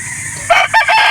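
Rooster of a Cardinal cross breed crowing once up close, a loud clear cock-a-doodle-doo breaking over a low background hum on a backyard chicken farm in Calauan, Laguna.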